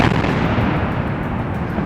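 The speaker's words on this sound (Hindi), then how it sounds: "तेज धमाकों ने लोगों को दहला दिया।" Explosions from Russian bombing of residential areas in Sumy, Ukraine, heard as a continuous, heavy rumbling roar of blasts that stays loud and dense throughout, with no voices.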